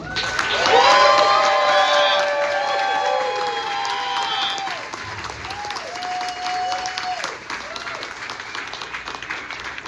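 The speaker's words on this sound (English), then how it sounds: "I would like everyone to please help me have a wonderful round of applause for Mr. Rob Alfieri." Applause and cheering from guests at a retirement reception, loud and dense at first with voices and whoops over the clapping, then easing to a thinner, steady patter while people talk.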